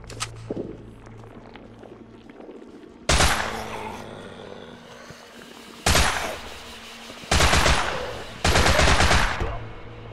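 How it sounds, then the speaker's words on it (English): Automatic rifle fire in the Holstin demo game comes in four loud, sharp bursts of rapid shots. Quieter footsteps and ambient game sounds run in between, and there is no talk over the gunfire. "Oh, automatic guns for the rifle."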